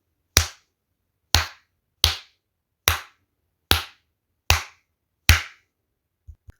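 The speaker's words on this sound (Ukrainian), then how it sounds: "Плескаємо в долоньки спочатку повільно." Slow, evenly spaced hand claps during a preschool nature lesson, seven crisp separate claps roughly three-quarters of a second apart in otherwise quiet surroundings.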